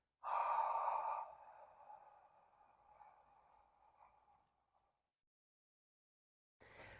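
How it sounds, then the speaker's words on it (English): A person exhales slowly through the mouth during an abdominal stretch: a strong breathy rush at first that thins into a long fading breath, then silence before a brief new sound at the end. "I want you to exhale through your mouth."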